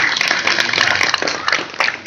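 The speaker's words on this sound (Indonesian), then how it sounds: "Tepuk tangan untuk Pak Daryono." A crowd at a Ngebak Geni gathering at Pura Kerta Bhuwana Giri Wilis temple claps briefly, a dense, close burst of hand claps with irregular peaks.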